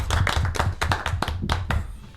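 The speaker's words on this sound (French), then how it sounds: "On applaudit bien fort." Close, sharp handclaps in an uneven rhythm from a small studio audience on an auto-moto television show, loud and dry with no talk over them.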